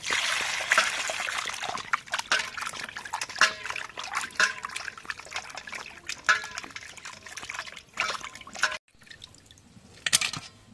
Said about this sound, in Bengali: এখন পানি দিই।